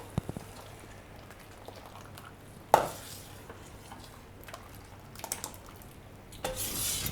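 A spoon stirring freshly cooked mango custard in a bowl to cool it under a fan, faint scattered scrapes and clinks against the vessel with one sharper knock, quiet and close.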